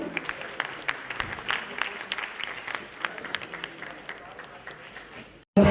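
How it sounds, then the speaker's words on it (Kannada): A hall audience applauds steadily for several seconds at a felicitation honouring Ilaiyaraaja as a wooden carving of the Kollur Mookambika goddess is presented, ending in a brief pause before a louder burst. "ಜೋರಾದ ಚಪ್ಪಾಳೆ ಬರಬೇಕು"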